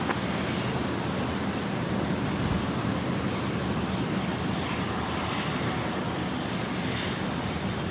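Jet engine rumble from an Embraer airliner on the move at Brisbane Airport, a steady broadband roar with wind-like hiss that holds evenly throughout, heard from a moderate distance with no talk.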